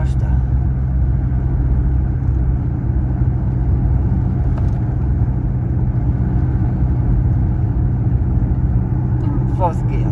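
A car engine labors up a steep road in fourth gear with a steady low drone and rumble throughout, near and continuous, with someone talking over it.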